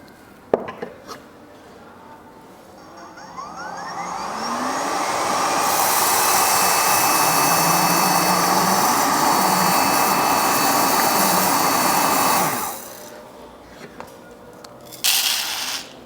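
A coffee sample roaster runs with a loud, steady rushing whir that spins up, holds for several seconds and then cuts off. Clicks and knocks from emptying the chaff come before and after.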